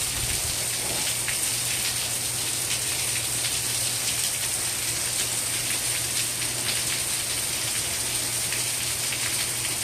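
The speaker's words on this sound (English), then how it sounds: "my gutters can't even hold as much rain as she's coming down" Heavy rain from Hurricane Irma in Central Florida pours down steadily and loudly, an unbroken hiss of water, with overflowing gutters and a low constant hum beneath it.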